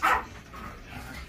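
A dog gives a single loud bark at the start, followed by quieter whimpering and household background noise in a home full of puppies and other dogs.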